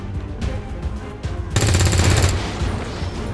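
Rifle gunfire in XCOM 2, a loud burst of rapid automatic shots in the middle, preceded by softer clicks and handling sounds and followed by a fading tail.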